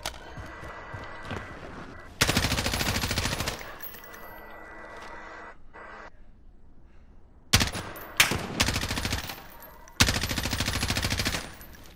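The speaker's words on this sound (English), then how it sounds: "He didn't shoot in the air yet, Mikey!" Call of Duty gunfire in loud automatic bursts, several long sustained volleys separated by quieter gaps with background game sounds.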